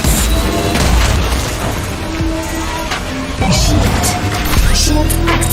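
Rocket explosions boom repeatedly amid the dense roar of racing in the Wipeout anti-gravity racing video game, loud and continuous with game music and effects layered throughout.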